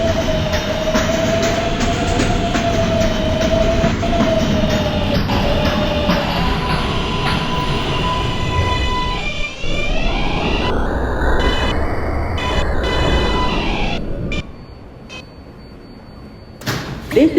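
Queens-bound New York subway Z skip-stop train running, a loud continuous rumble and rattle of wheels on track with a rising whine and squeal before it quiets briefly.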